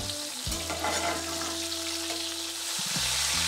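Marsh rat meat frying in hot, deep grease over a campfire-style setup, a steady loud sizzle and crackle running throughout without pause, with no voices.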